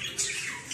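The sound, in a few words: canary squawking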